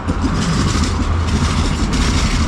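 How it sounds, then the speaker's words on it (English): Tram number 1 in Riga, Latvia, rolling along as a continuous low rumble with faint track rattle, heard from nearby outdoors without talking. "As tram number 1 heads into the city"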